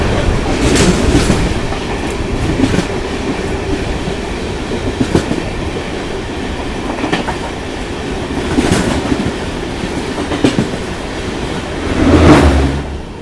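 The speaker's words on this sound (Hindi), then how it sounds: "तो सामने से ट्रेन आ रही है दिल्ली सराय रोहिला से चलकर पठानकोट के बीच में चलने वाली धौलाधार" Dhauladhar Express running between Delhi Sarai Rohilla and Pathankot passes on the opposite track, heard from inside a moving coach as a loud steady rumble with rhythmic clickety-clack of wheels and a swell near the end.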